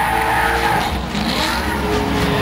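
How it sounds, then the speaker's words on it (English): A VA-engined Nissan S13 drift car at Formula D qualifying in Atlanta runs off course, its engine roaring loud and steady with tire squeal and skidding throughout, up close. "The VA powered S13 going off course."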